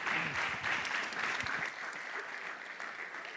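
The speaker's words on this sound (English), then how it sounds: "A round of applause for our panel and Mr. Dimsdale." An audience claps for a panel at the close of a lecture event, a dense, fairly loud round of applause that holds steady for a few seconds with a faint voice at the start.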